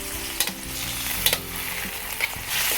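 Beef and Baguio beans sizzle and fry in a pan while a utensil stirs them, with a constant hiss broken by three or four clattering scrapes against the pan, close and without talk.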